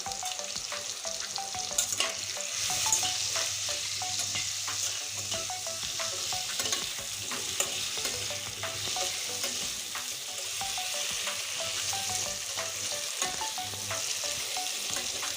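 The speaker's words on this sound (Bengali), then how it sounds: "আমি আলুটা এখন লাল করে ভেজে নেব" Potatoes fry in oil with salt, turmeric and chili powder for a soybean and potato curry, a dense, continuous close sizzle broken by frequent stirring scrapes, with no voices.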